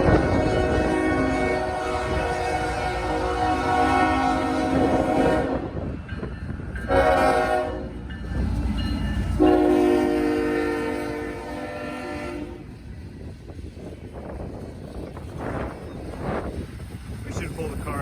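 A train rolls past in Muncie with a loud, sustained horn blast that sounds in long held bursts over the rumble of railcars, while people talk nearby.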